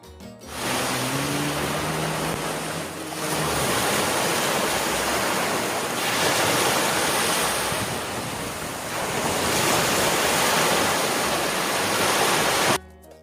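Waves washing onto a sandy beach on Koh Rok island, a loud, continuous broadband roar of surf swelling and easing in slow surges, with heavy wind buffeting the microphone and no talk.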